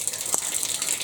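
Cold water gushing steadily from a newly fitted wall-mounted bath tap, a close, continuous hiss of running water with no talk over it.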